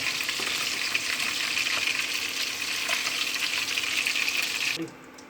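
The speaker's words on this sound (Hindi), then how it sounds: "इसी तरह से जितनी मछली है सबको फ्राई कर लेंगे" Pieces of fish fry in hot oil for a curry, a steady, close hiss of sizzling with faint crackles, continuing evenly before cutting off abruptly near the end.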